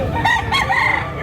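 A one-year-old Carbon Cebu gamecock rooster crows once, loud and close, its cry rising and holding with a harmonic warble on a farm.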